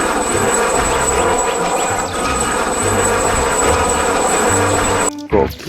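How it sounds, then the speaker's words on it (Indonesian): A toy helicopter gives off a steady, loud whirring engine-like drone that runs almost without a break, then cuts out abruptly near the end. "ada helikopter."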